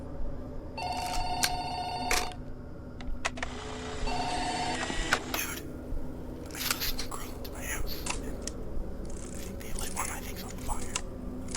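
A telephone rings in the horror video game Six Horrors 2, a few repeated electronic ring bursts followed by quiet whispering voice and faint clicks, with a low background drone throughout.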